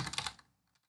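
A computer keyboard clatters in a quick burst of close keystrokes while code is typed, then fades into a couple of faint, isolated key taps.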